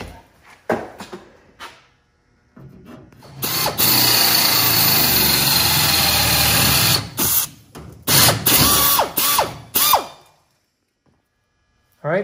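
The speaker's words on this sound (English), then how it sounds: "let's drill some holes" Power drill boring holes through the belly pan of a VW bus during a Subaru engine swap, several sustained whining bursts with short pauses between them, fairly close and loud.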